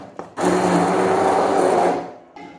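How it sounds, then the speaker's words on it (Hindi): A hand blender purees chopped tomatoes into paste in a kitchen, a single loud, steady whirring buzz lasting under two seconds with short handling clicks before and after. "इसी तरीके से मैं दूसरे टमाटर भी इसमें कटिंग कर और उसको भी ब्लेंड कर लूंगी।"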